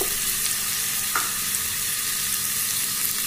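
Ginger paste and chopped tomato sizzle steadily in a hot pan, a loud, continuous hiss with one faint clink and no talking.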